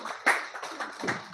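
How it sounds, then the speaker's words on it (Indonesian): Brief, scattered clapping for a newly elected organization chairman at an installation ceremony, a few uneven claps close by with a sharp burst near the start, short and fairly quiet. "Tepuk tangan untuk ketua umum terpilih"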